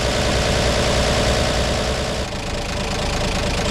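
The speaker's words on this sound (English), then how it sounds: "Let's check this again now that we're at a warm idle, or slow idle anyway." A car engine at a warm, slow idle after the car was rewired from 6 to 12 volts, a steady close rumble with a faint knocking pulse and no talk.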